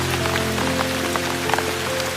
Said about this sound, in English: Meanwhile, let's enjoy the soothing sound of the rain.